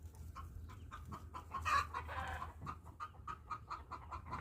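A hen that has just laid two eggs clucks close by in short, repeated bursts over a steady low farmyard hum, with one louder squawk in the middle.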